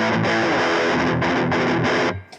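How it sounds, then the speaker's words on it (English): Gretsch electric guitar through heavy distortion: thick, sustained chords struck in several bursts with brief gaps between them, loud and upfront, then cut off at the end. "you can't just throw in some distortion and go"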